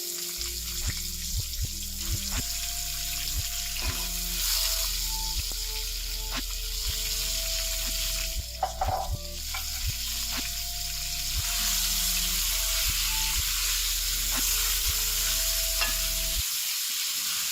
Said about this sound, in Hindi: हम इसमें चिकन डालेंगे।